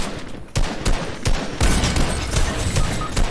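Rapid gunfire in the Fortnite battle royale game, several dense bursts of shots cracking close and loud one after another.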